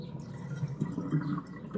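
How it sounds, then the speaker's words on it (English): Water gurgles and trickles down a sink drain in a whirlpool, a soft, uneven burbling with small drips, close by and fairly quiet. "You can hear the drain noise in that drain."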